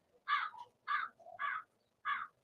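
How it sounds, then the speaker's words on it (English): Several crows caw in a steady series of four harsh calls, fairly close and alone with no talk over them. "I guess all the crows are out"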